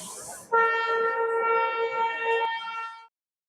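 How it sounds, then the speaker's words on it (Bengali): The Darjeeling toy train on the Batasia Loop sounds a loud, steady horn for about two and a half seconds, with a low running rumble underneath that fades out soon after. "টয় ট্রেনের এই সুন্দর একটা আওয়াজ"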